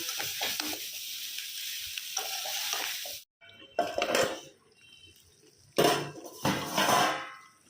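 Pumpkin and its stalks sauté with salt in a pan. A steady sizzle carries stirring scrapes, breaks off into a brief silence, and then returns in loud, close bursts of frying and stirring.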